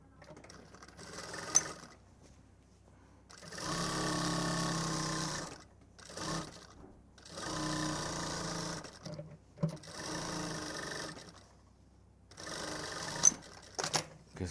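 A sewing machine stitches the lining of a men's jacket pocket in several steady whirring runs of a few seconds each, separated by short pauses, heard close and clear.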